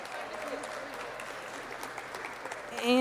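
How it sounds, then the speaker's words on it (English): Applause for youth leaders at a youth mental health event runs steadily and fairly softly throughout, with a voice starting to speak over it at the very end. "So let's give a big, big round of applause to our youth leaders here today."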